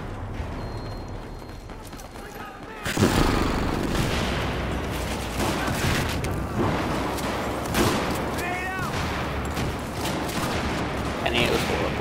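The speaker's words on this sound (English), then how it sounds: "I'm trying to use a shotgun." Shotgun blasts in the shooter game Battlefield 4 ring out in loud, repeated bursts over a dense bed of battlefield noise and clattering mechanisms, starting abruptly a few seconds in.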